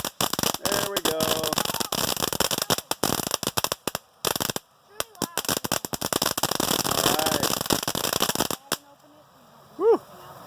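Small consumer fireworks sold for young children crackle and fizz in a rapid burst of pops and sputters, followed by a quieter tail, with people talking nearby.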